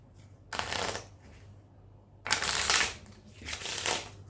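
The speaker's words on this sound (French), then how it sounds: "je vais pouvoir mélanger le paquet de cartes dans tous les sens" A deck of playing cards is shuffled close up in three separate bursts of crisp, fluttering riffling, with short quiet pauses in between and no talking.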